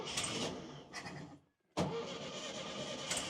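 A 1966 Volkswagen Beetle, off the road for 13 years with its throttle cable unattached, cranks and fires up, its engine running loud and close with a brief quiet gap before it catches again.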